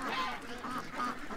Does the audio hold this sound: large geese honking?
yes